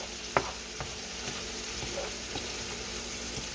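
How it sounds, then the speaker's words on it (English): Peppers and onions frying in a pan, a faint, even sizzle with a sharp utensil knock near the start and a few soft stirring scrapes, heard close and without speech. "Then stir them peppers and onions back there real quick."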